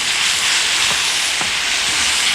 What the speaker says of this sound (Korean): 지금 라면이 볶아지고 있는데